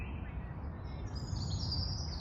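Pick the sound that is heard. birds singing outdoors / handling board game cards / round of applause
birds singing outdoors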